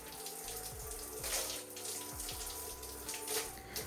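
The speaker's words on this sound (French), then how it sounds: "Donc là, on va rincer." Tap water runs steadily while rinsing a hair mask out of 4C hair, a continuous splashing wash with a few brief surges, close and fairly loud, no voices.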